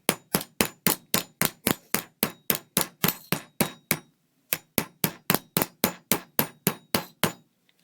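A hammer strikes a stamped metal blank to flatten it, sounding as a fast, even series of sharp ringing clangs. About a dozen blows land, a brief pause follows, then another run of blows comes close up and loud.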